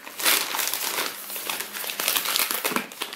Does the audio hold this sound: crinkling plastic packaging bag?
yes